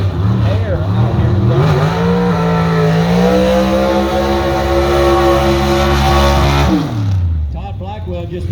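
A gasser drag race car tears down the strip at a Southeast Gassers event, its engine roaring loud and close with rising, shifting pitch through the gears, then fading sharply near the end while an announcer talks over it.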